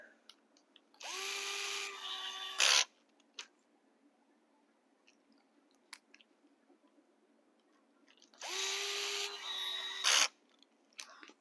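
A power driver spins a nut onto the shock mount of a Tekno EB48 2.1 RC buggy in two separate bursts of about two seconds each, each ending in a sharp ratcheting clatter. Near and loud against a quiet workbench.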